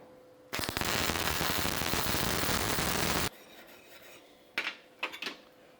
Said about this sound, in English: I'm gonna crank it up, weld the other side